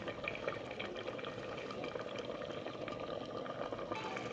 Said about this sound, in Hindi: अब इसका पानी अलग करूंगी।